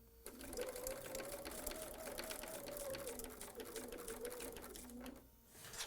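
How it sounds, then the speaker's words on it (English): A sewing machine runs steadily, stitching fabric pieces of a quilt block made with a slit-and-sew template, giving a continuous fast whirring hum at low volume. "Now we're going to sew to that point."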